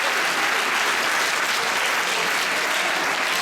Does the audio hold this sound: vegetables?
no